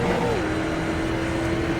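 Street Stock race car engine in iRacing at Dover, holding a steady droning note that dips slightly in pitch early on, continuous and close without any talking.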